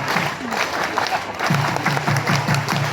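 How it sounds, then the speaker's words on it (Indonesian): A crowd at an Indonesian religious gathering performs the rhythmic scout clap, tepuk pramuka, in a series of short, evenly spaced claps over a busy crowd murmur, with a few voices mixed in. "Tepuk pramuka."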